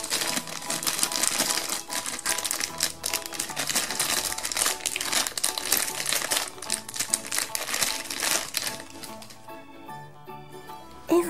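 Plastic packaging around an LOL Surprise doll is torn and crinkled open, a dense run of close crackling and rustling that thins out near the end.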